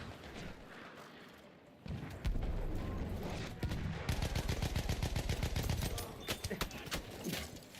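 Battlefield 1 multiplayer gunfire: fast bursts of automatic fire in rapid, even strings of sharp shots, loud and close, with scattered single cracks, mixed with other battle noise.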